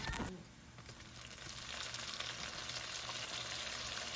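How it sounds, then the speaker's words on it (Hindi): Sliced onions fry in a pan until golden brown for goat liver masala, a steady soft sizzle running evenly throughout with a faint clatter near the start. "अनियन को आपने बिल्कुल रेड नहीं करना, स्लाइटली गोल्डन ब्राउन करना है"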